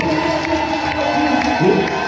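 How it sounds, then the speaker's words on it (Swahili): A church congregation claps and cheers continuously, with high ululating cries mixed into the dense, steady roar. "Wapo wale ambao wanaweza kupiga Bwana Yesu makofi ya vigelegele."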